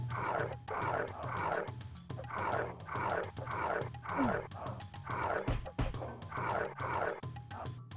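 Hyenas in The Lion King video game yip and snarl in a steady repeating cycle of short yelping bursts, each cluster about half a second long, set over a low looping game backdrop at moderate level.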